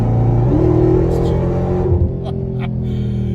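A Dodge Demon 170 engine revs loudly up close with a deep, rumbling roar. The pitch climbs and then settles back into a heavy, throbbing idle.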